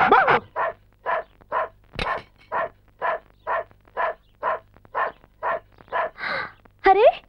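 A tied-up dog near a gate barks over and over in a steady, even rhythm, loud and close, with a whiny yelp at the end.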